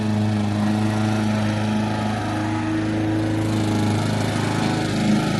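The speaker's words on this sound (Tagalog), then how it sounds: "Nag-grass cutter pa siya." A lawn mower runs steadily on a home lawn in Finland in the evening, its engine a close, continuous droning hum with no break throughout.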